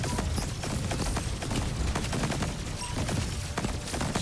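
Rapid gunfire from the video game Cygni: All Guns Blazing, a dense, continuous crackling barrage of shots popping like fireworks, steady and loud for the whole stretch with no voices.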